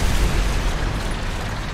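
Explosion next to a tank in the War Thunder video game: a loud, deep, rumbling blast that fills the short clip with continuous low boom and noise.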